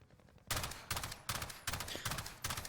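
AUG burst rifle in the game Call of Duty: Warzone, fired at a target about 10 meters away: five rapid bursts of sharp, punchy shots follow a short quiet lead-in, loud and close.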